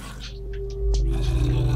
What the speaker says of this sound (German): Ich höre hier auch irgendwie so einen wütenden Hund.